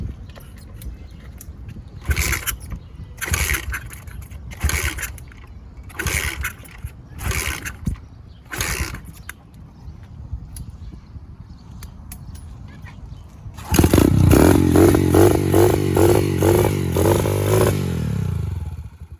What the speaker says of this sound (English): let's start this bike and